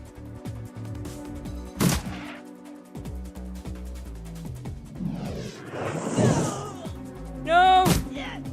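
Gunfire in the video game Shadowrun Returns: a few sharp shot bursts over steady game music, with a louder blast near the start and another near the end, plus some clattering impact noise midway.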